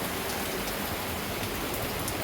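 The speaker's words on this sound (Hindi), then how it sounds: "बहुत तेज़ बारिश है।" Heavy monsoon rain pours down outdoors, a dense, unbroken hiss of drops hitting surfaces at a constant loud level with no voices.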